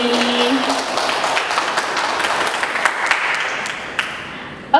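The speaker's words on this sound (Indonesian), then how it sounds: "Tepuk tangan dulu dong untuk Kak Kalisa dan Kak Jenny." Sustained audience applause at a student talk show, a steady wash of many hands clapping that continues evenly before tapering at the end.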